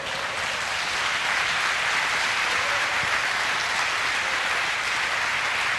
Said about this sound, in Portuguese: Dá para você aplaudir o Senhor, irmão?